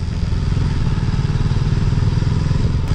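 A Hero Splendor Plus motorcycle engine runs in first gear on a mountain road in the Spiti Valley, giving a loud, steady, close-up drone with a continuous low thrum and no pauses.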